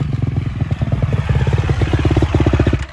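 A newly bought motorcycle's engine runs close by with a rapid, pulsing, uneven rumble that rises and falls in short revs, heard alone with no talking.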